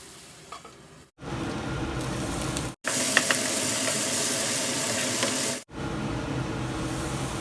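Potatoes fry in a pan with fenugreek leaves, giving a continuous close sizzle with stirring scrapes, broken by brief gaps where the sound cuts out.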